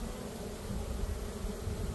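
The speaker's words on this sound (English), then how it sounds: "And now I'm trying to get the bees to run out." Honeybees buzzing inside a hive box during a bee rescue with collapsed comb, a steady low droning hum of many insects close by, continuous and even throughout with no talk.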